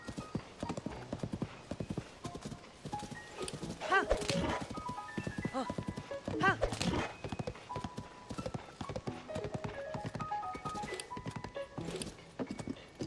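Horse hooves clip-clop steadily in Tears of the Kingdom as a horse picks its way through rubble, a continuous rhythmic trot with occasional whinnies, heard under a person's ongoing talk.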